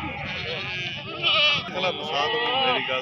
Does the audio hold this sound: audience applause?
no